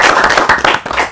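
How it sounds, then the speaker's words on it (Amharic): An audience claps together in a dense, loud burst of applause at a children's festival event, with no voices over it. "ለሁለቱም አጨብጭቡላቸው"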